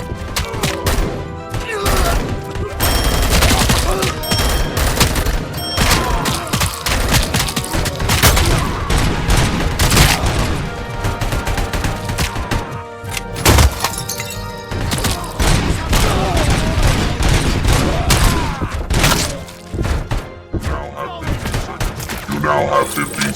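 Dense, sustained gunfire from the RoboCop: Rogue City video game, with overlapping rapid shots, heavy thuds and booms filling the whole stretch at close range, and a voice heard at times beneath it.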